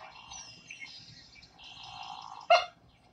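A secretive marsh bird gives resonant keek calls, a series of bright, ringing notes ending in one loud, sharp keek near the close, heard alone with no talking.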